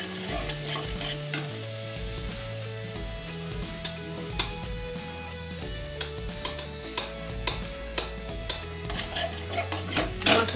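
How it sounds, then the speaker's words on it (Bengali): A spice paste with salt sautés in a pan for a vegetarian dish. A soft sizzle runs underneath while a spatula taps and scrapes against the pan in sharp, increasingly regular knocks. "এটা কিছুক্ষণ মশলাটা কষিয়ে নেব"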